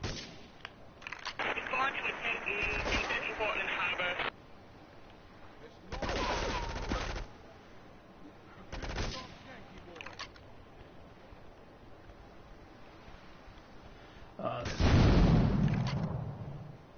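Bursts of gunfire in Grand Theft Auto III, several separate rattling volleys and shots spaced out over the stretch, loud and close, with quieter gaps and some talk in between.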